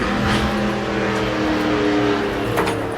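A loud car drives past, a steady heavy engine roar with tonal hum that stays strong throughout, close and dominant with no talking.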